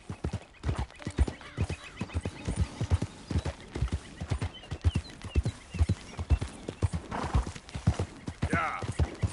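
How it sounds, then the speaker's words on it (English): Steady horse hooves clip-clop in a quick, even rhythm with a whinny toward the end, set in the Red Dead Redemption 2 game world; loud and close, with a voice speaking over parts of it. "That horse looks like a fine traveling companion"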